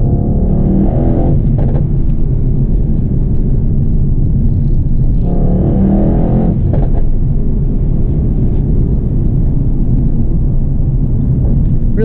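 A 2018 Mercedes-AMG E63 S wagon driving, heard as a continuous heavy low rumble of engine and road noise from inside the cabin, with a couple of brief surges.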